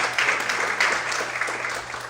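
A church congregation applauds during a sermon, a dense steady wash of many hands clapping together at a moderate distance, filling the space without any voice on top.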